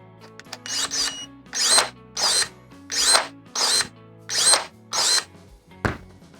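Procraft ES32Li cordless battery pruning shears cutting a branch in a garden: about eight loud, close motorized whirs in a steady rhythm, each a short burst with brief pauses between, and no talking.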